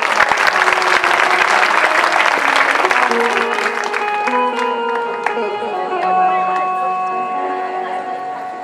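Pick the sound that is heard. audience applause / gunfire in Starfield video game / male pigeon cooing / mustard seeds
audience applause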